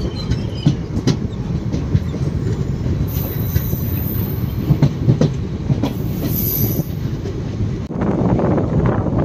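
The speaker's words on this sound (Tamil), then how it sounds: "நம்மளோட பேரளம் ஜங்ஷன்லேருந்து நம்மளோட மயிலாடுதுறை மன்னார்குடி எக்ஸ்பிரஸ் கிளம்பிடுச்சுங்க" The Mayiladuthurai–Mannargudi Express pulls out of Peralam Junction, its carriages rumbling with rhythmic clickety-clack of wheels over rail joints and occasional metallic squeals, loud and steady throughout.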